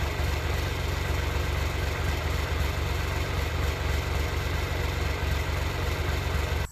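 A tractor engine idles continuously with a steady rumbling, constant low drone and mechanical vibration, fairly close, cutting off abruptly at the end.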